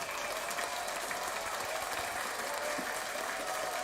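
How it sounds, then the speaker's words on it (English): Audience applause at the close of a sports talk show, a steady, fairly faint wash of clapping with no individual claps standing out. "round of applause for you showing up and your support"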